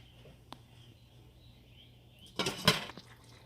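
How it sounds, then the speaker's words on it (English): A metal lid set back onto a cooking pot of pasta shells with ground beef, a short clattering clank near the end after a faint tick, over a quiet low hum. "I'm going to go ahead and replace the lid"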